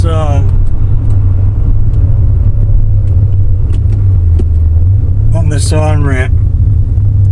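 Steady low engine drone of a finished C4 Corvette with a Crossfire setup on a road test, loud and constant from inside the car, with a rising whine near the end as it speeds up.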